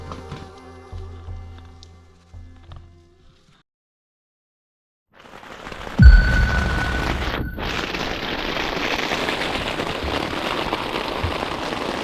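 Heavy rain pounds steadily on a catamaran during a night storm on a Finnish lake, a dense loud roar after a sudden onset and a thump, following a quieter stretch at the start.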